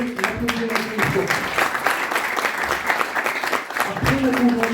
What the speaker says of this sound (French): je vous demande de l'applaudir une fois.